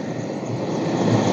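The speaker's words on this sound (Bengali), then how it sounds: "পেশেন্ট নিয়ে আসছে হেলিকপ্টার করে" An air ambulance helicopter carrying a patient gives a steady, loud engine and rotor drone, continuous and fairly close with no voices.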